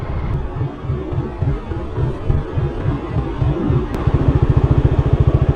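A motorcycle engine runs on a street in Vietnam, rumbling unevenly at first, then settling into a steady, rapid throbbing pulse close by near the end.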